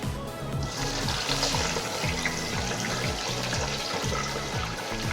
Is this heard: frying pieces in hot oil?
yes